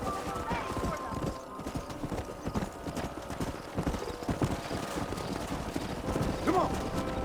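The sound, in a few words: horses galloping in Red Dead Redemption video game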